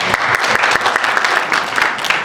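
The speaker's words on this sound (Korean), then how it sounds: "우리 박수 한번 해드리죠." Congregation applause at a Korean church retreat service in Istanbul, loud steady clapping from many hands with crisp individual claps throughout, close and continuous.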